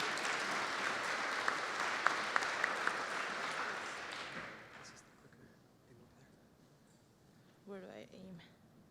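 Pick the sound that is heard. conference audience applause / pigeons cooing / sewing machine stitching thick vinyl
conference audience applause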